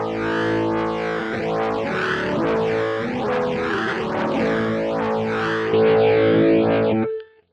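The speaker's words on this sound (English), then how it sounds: "You've got drive, which will add a little bit of, distortion or overdrive to the actual sound itself." Guitar played through the rotary Leslie effect of a Boss GX-10 processor with drive added, sustained chords swirling in a pulsing, wavering modulation with gritty overdrive, loud and alone, ending with a brief cutoff.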